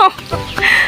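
A chicken clucking close by on a farm, a few short irregular clucks and squawks within under a second, with faint voices around.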